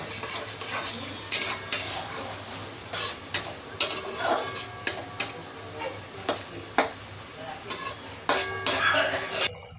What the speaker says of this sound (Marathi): टोमॅटो पण चांगला तेलामध्ये परतून घ्यायचा आहे